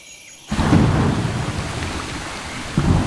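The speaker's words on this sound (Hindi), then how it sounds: "तेज बारिश" A heavy downpour roars in suddenly over dense Amazon rainforest, with a deep rumble of thunder rolling underneath and swelling again near the end.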